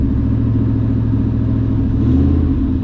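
Truck engine rises from idle as the throttle is pressed, a loud, close low rumble that swells in pitch near the end, with no talking.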